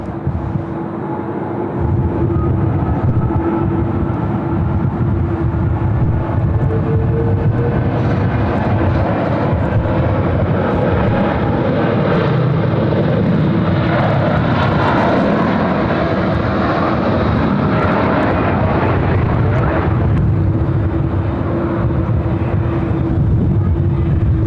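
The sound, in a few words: Korean Air Boeing 787-10 jet on takeoff roll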